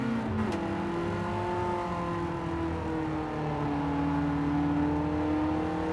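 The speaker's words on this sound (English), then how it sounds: "That Mercedes, you can hear its engine note rattling along." Mercedes DTM race car engine in a racing video game, a steady, close droning note with slowly sliding pitch as it accelerates, continuous throughout with no talking.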